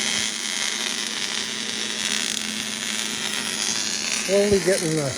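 MIG-style welding of metal gussets on a 1972 Super Beetle, a steady crackling buzz held throughout at close range, with a brief voice near the end.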